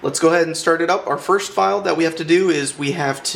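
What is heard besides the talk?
No distinct noise like a dog, phone or traffic.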